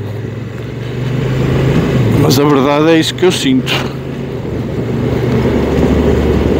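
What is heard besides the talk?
Honda NT1100 DCT motorcycle engine during test ride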